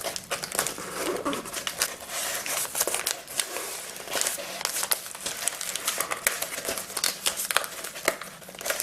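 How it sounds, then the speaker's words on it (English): Aluminum foil crinkled and pressed by hand while shaping the muzzle of a hyena mask, a close, steady run of crackling rustles and small crunches with no talking. "So I'm just going to add a little bit of aluminum foil."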